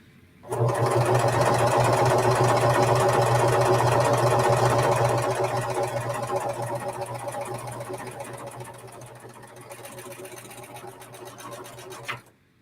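A Pfaff serger runs a tight rolled edge in one steady, close, loud whir that starts abruptly, holds evenly, then eases slightly in volume before cutting off near the end.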